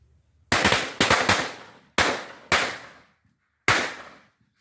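A whole pack of firecrackers set off at once: five sharp, loud bangs burst in an irregular sequence, a quick rapid cluster first, then spaced single cracks, each ringing out and decaying.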